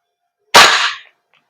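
A single sharp shot from a VFC Knight's Armament KS-1 L403A1 airsoft gas blowback rifle, a loud close crack with a brief hissing decay, alone with no talk.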